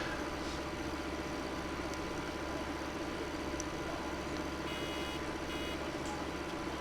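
Vehicle reversing beeper in Farming Simulator 15, a faint repeating electronic beep over a constant loud engine drone from the farm machine.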